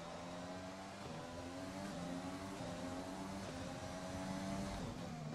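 Engine of an F1 race car in the F1 2020 video game, a continuous high-pitched revving drone that rises and falls with gear changes, loud and steady throughout with no talking.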